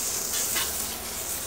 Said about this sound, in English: we'll flip our burger over here